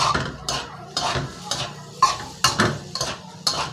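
A metal spatula scrapes and clanks against a wok in a steady rhythm, about two strokes per second, close and fairly loud, with a soft sizzle beneath, stir-frying egg-coated rice with fermented pork.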